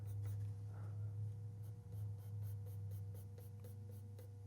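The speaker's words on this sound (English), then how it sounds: "Just a little pencil mark. Sketch that in sort of how we want this to look." Pencil sketching marks on the wooden neck of a homemade 3-string cigar box guitar, a light scratchy scraping in short repeated strokes, close up over a steady low hum.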